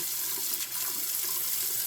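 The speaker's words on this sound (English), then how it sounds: "flush it with hot water" Hot water runs steadily from a tap into a bathroom sink while a clogged drain is flushed, giving a continuous close splashing rush with no voices.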